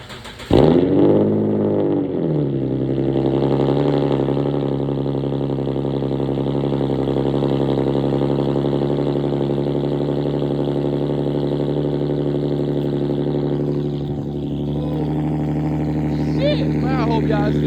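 An Infiniti G37 with its muffler and resonator deleted gives a loud, raw exhaust note that rises in a sharp rev, then settles into a steady droning run and dips briefly near the end.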